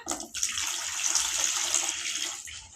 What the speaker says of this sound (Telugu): ఇప్పుడైతే మటన్ కడుగుతున్నా అలాగే బియ్యం